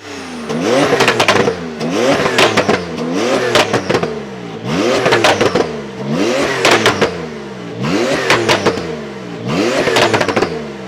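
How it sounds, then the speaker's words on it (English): A tuned 1020 bhp Porsche 992 engine accelerates hard again and again, each run climbing in pitch through quick gear shifts with crackling pops, loud and close. "Now that is a sound that everyone should be getting on their Porsche 992"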